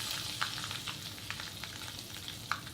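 Green chilies sizzle in hot oil with hing and turmeric, giving a steady close frying hiss broken by small pops and crackles throughout.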